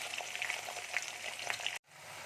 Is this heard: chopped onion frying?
yes